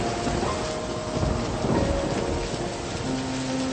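Heavy rain and thunder in a Bengali cartoon scene form a thick, continuous roar of downpour with low rumbling swells, steady and fairly loud throughout with no voices.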